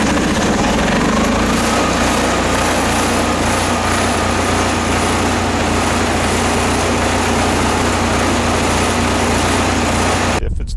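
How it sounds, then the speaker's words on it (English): The engine of an Aerotech BT400 Herman Nelson heater runs loud and steady with a constant drone, then cuts off abruptly at the end. "Once the engine is warm, turn key to start."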